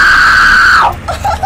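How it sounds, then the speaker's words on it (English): A woman screams loudly and steadily in a sustained high-pitched shriek at a horror-themed haunted attraction, then breaks off into softer sobbing sounds. "Yell that you want out and you might get out. Yell it loud."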